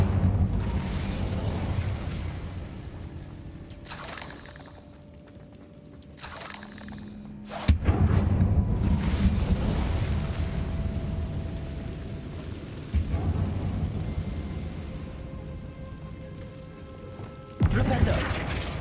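Incendio fire spell blasts from Hogwarts Legacy, several loud bursts and whooshing impacts in game combat, with someone talking over parts of the action.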